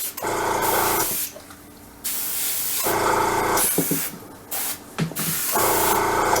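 Spray paint hisses in bursts onto a model M551 Sheridan tank, with loud steady blasts of about a second each separated by short pauses and a few small clicks.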